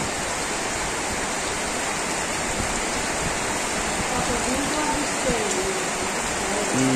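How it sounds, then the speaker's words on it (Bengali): Rain falls quietly over a village after the strong wind has died down, a soft, even wash of steady patter that continues unbroken, with a faint voice-like murmur toward the end. "তো শুধু নীরবে বৃষ্টি হইতেছে"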